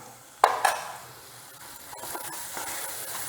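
Spoon stirring ground spices such as coriander powder, turmeric and salt in a pan with sautéing ingredients, two sharp scrapes near the start followed by a soft steady sizzle, close and moderately quiet.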